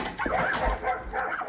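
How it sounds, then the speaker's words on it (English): Several dogs bark and yip excitedly close by, a busy overlapping burst of short woofs lasting about a second and a half. "I can't hear you for all the dogs barking."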